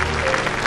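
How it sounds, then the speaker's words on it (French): A French TV studio audience applauds a charming little girl contestant on a children's singing talent show, a dense, steady patter of clapping filling the short moment at close range. "Allez, applaudissez-la vraiment parce qu'elle est charmante."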